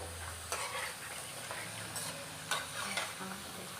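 Potatoes frying in a pan give a soft, continuous sizzle with occasional light taps and scrapes, fairly faint and with no talking.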